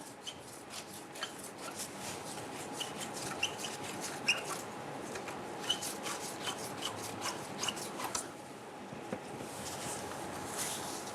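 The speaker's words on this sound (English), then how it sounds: "Using a flathead screwdriver, come on over to this clamp. We're going to loosen this." A flathead screwdriver works loose a hose clamp on a 1997-2006 Jeep Wrangler, with close, quiet repeated rubbing and rasping metal clicks in an uneven rhythm.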